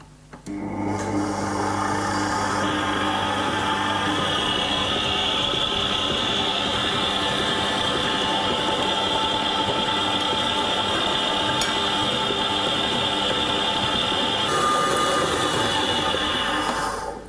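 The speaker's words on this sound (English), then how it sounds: "I'm going to add my eggs one at a time while the mixer is actually going" An electric mixer beating Christmas cake batter with eggs runs as a steady, continuous whir and rumble close by for the whole stretch, with no talking.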